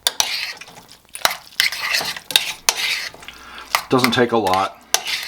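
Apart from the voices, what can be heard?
stirring warm sauerkraut with Thousand Island dressing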